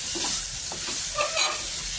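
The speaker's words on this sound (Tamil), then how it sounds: "புதினா சேர்த்துட்டு நல்லா மிக்ஸ் கொடுத்துக்கோங்க." Mint leaves being stirred in a hot pan of frying veg kurma base, a steady sizzle with soft scraping stirs, close and continuous, no voices.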